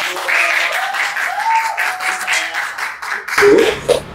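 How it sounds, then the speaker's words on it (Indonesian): A school audience applauds at a talk about a high school's award-winning teacher, a burst of clapping under and between faint voices, with a louder closing patch. "Waduh, tepuk tangan dulu dong."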